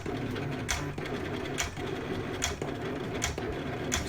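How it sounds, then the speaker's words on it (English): A Silhouette Cameo vinyl cutting machine hums steadily as its blade carriage shuttles back and forth, with crisp ticks recurring roughly every second. "that cutting tool is going to go back and forth and make all of those detailed cuts"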